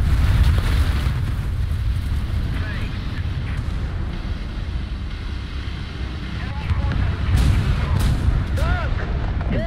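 Self-propelled artillery fires in the War Thunder game, with heavy booms rumbling under constant wind-like noise. Several people talk over the action throughout.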